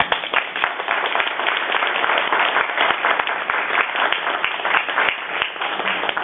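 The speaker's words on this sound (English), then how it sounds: "I would love to hear a wonderful round of applause for Dr. Cruz" A lecture-hall audience gives a steady, dense round of applause for a doctor at a patients' celebration event, loud and sustained throughout with no voices over it.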